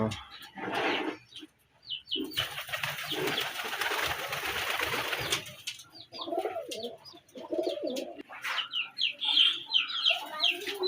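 Red Giribaz pigeons of the Rajshahi breed coo and cluck in a pen, with soft repeated calls and some sharp chirps over a stretch of noisy rustling, fairly close and steady.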